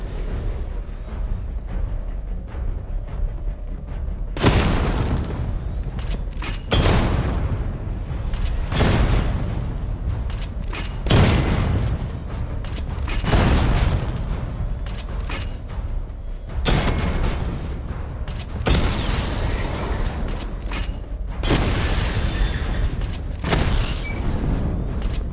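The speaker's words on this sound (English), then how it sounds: "Charge the missile barrage to level 2 to destroy up to 4 targets at once." Repeated heavy blasts from a missile barrage in Batman: Arkham Knight, a series of booming explosions arriving every few seconds over a continuous rumbling background, loud and close throughout.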